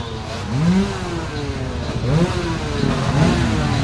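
Motocross motorcycles rev before a race at the Kaamulan motocross event in 2024, with rising and falling engine notes from several bikes, fairly close and loud against a busy outdoor background.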